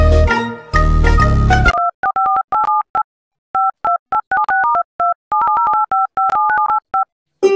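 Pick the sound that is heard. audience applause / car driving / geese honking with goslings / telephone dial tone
telephone dial tone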